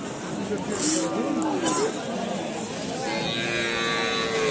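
Cattle, Indian border-cross cows, lowing amid a busy outdoor cattle market crowd, with voices chattering and a general market hubbub throughout.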